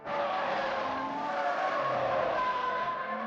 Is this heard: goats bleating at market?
no